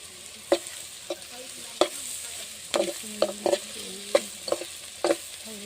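Onions fry in oil with turmeric for a fish curry while a spatula scrapes and taps the pan in irregular knocks over a quiet, steady sizzle, with no voices.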